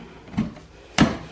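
Small door on a spotted genet's cage opening, two short knocks or clacks about half a second apart, the second louder, close by.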